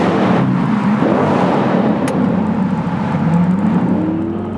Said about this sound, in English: The AWE exhaust